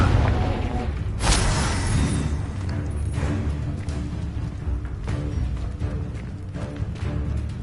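A Confringo blasting spell goes off in Hogwarts Legacy, a loud booming burst early on that rumbles and fades into a sustained low roar of game effects.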